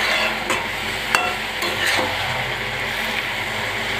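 Chopped bottle gourd fries in a hot pan over a gas flame, a continuous close sizzle broken by occasional light scrapes and taps of a spatula as it is stirred.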